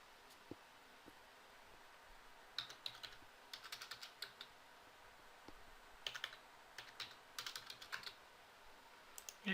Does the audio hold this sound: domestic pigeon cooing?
no